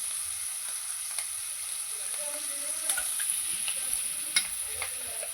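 Ghee sizzles in a pan while the contents are stirred, a steady close frying hiss broken by a few light scraping clicks.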